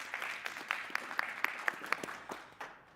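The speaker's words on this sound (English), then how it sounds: "Round of applause." Applause from a live audience at a rail transport economy event, a dense patter of clapping with sharp individual claps standing out, swelling briefly and then thinning out toward the end.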